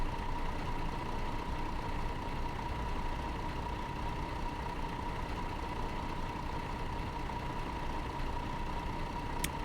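A tour bus engine idles steadily in Tourist Bus Simulator, a continuous low hum with a faint mid-pitched tone that stays even and fairly distant throughout, with no talking.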